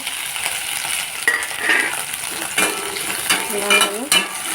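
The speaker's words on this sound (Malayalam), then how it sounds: "ഞാൻ കുറച്ച് എണ്ണ ഒഴിച്ച് കൊടുക്കുന്നുണ്ട് ഇതിലേക്ക് നമുക്ക് വെണ്ടയ്ക്ക ഇട്ട് കൊടുക്കാം" Okra sizzles and fries in oil in a pan while a utensil stirs it, a steady close hiss broken by scraping strokes and light metallic clinks, with no talking.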